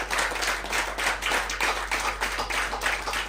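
Scattered clapping from a conference audience, individual hand claps audible in a loose rhythm, moderately quiet and roomy.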